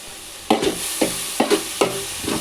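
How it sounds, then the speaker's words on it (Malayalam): A single piece of fish frying in a pan, a steady close sizzle punctuated by several sharp scraping strokes of a utensil against the pan at irregular intervals, with no voice. "മീൻ പൊരിഞ്ഞുകൊണ്ടിരിക്കുകയാണ്"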